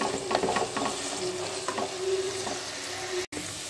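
Onions sauté with salt and curry leaves in a pan for Kerala-style chicken curry, making a dense, even sizzle with light stirring clicks throughout and a momentary cut near the end.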